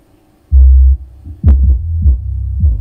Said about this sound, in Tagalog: puro bass po ang tunog nito